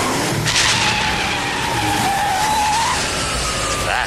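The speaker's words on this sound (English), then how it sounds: "Hear that? It's his car." A car skids hard in the LEGO Batman video game, a loud, sustained squeal of tires over a roaring engine that bends in pitch across several seconds.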